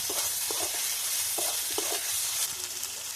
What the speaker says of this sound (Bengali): ভালো করে এগুলো আরেকবার কষে নেব। এবার এর মধ্যে আমি বাটা মশলাটা দিয়ে দিলাম।